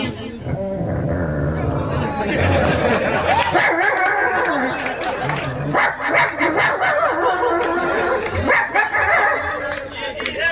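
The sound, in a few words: voice imitating dogs fighting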